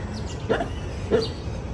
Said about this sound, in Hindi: किसको भौंक रही है?